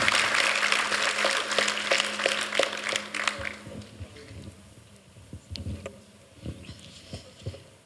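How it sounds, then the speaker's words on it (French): A small crowd at a local campaign meeting in Montignac applauds for a few seconds, the clapping thinning out, followed by shuffling, thumps and faint movement noises. "je crois que vous pouvez l'applaudir aussi"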